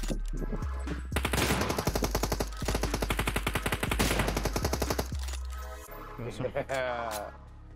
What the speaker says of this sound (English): They were shooting off.